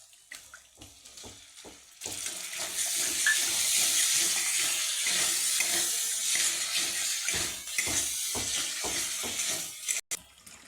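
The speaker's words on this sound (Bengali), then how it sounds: "আমি একটু পরিমাণ মতন জল দিয়ে দিচ্ছি" Water poured into a pan of spiced curry made with yogurt and catla fish, a few soft clinks first, then a steady gushing splash for about eight seconds before it cuts off.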